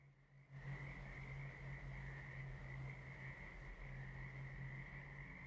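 Frogs croak in a chorus inside the video game Guild Wars 2, a continuous droning, pulsing croak that sets in abruptly after a brief quiet start and holds at a steady, fairly faint level.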